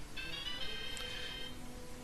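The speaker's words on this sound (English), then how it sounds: "My cell phone just rang" A cell phone ringtone chirps in repeated electronic tones for about a second and a half, moderately loud, over a steady low background hum.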